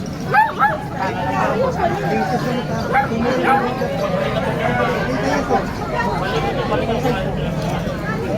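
Small dogs such as Shih Tzus and Pomeranians barking at a busy pet market in Bocaue, a few sharp yips up close over a dense crowd babble with people talking throughout.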